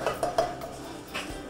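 A spoon scrapes and clinks against a pan while ragi flour is roasted and stirred, three sharp metallic taps up front, then softer scraping strokes, close and fairly quiet.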